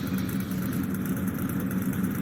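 A Ferrari sports car engine idles steadily up close, a smooth, continuous low rumble with no voices over it.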